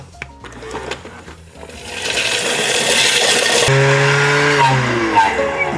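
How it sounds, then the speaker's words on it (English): A Thermomix grinds toasted walnuts and sesame seeds, a loud rising mechanical whir and rattle that builds after a few clunks and settles into a steady, pitched motor drone, close up. "now we're going to grind them"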